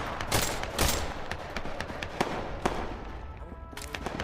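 Rapid gunfire in the VR shooter Tactical Assault VR, a dense run of sharp cracks and bursts that is loud early on and then thins to scattered shots.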